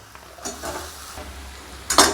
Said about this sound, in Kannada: ಈಗ ಇದಕ್ಕೆ ಫ್ರೈ ಮಾಡ್ಕೊಂಡಿರೋ ಮಡಿಕೆ ಕಾಳು ಹಾಕೋತೀನಿ ರೀ